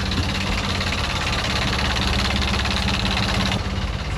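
A boat engine starts, then idles steadily with a loud, low rumbling drone, close by and unbroken, with no voices.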